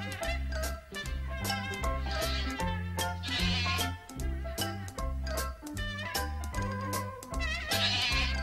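Loud, wavering goat bleats repeat one after another, close by, over a steady low background.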